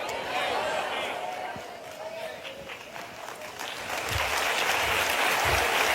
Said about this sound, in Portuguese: Se é para aplaudir, aplauda direito.